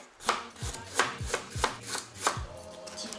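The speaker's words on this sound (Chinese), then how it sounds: "先来备料，切姜。" A knife chops ginger on a cutting board in about half a dozen crisp, evenly spaced strikes, close and fairly loud, with no voices.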